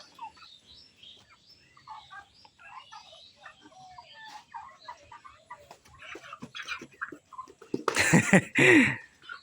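Backyard chickens raised for home use make scattered soft clucks and calls that build into a loud, harsh burst of squawking near the end.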